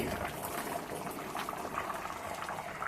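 A pot of fish pulusu, a Guntur-style tamarind fish curry, simmers and boils on the stove with a steady, dense bubbling that runs throughout at an even level.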